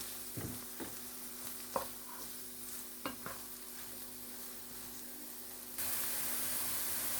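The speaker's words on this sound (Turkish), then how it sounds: "Patlıcanların rengi hafif kızarana kadar bu şekilde karıştıralım" Eggplant frying in a pan while being stirred, with a steady low sizzle broken by a few distinct scraping and clinking stir strokes, the frying hiss growing louder near the end; no talking.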